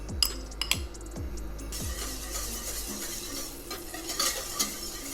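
Butter melting in a cooking pot as the base of a roux of equal parts butter and flour for thickening a sauce, with a soft steady sizzle, a few sharp clinks of a utensil against the pan, and stirring sounds up close.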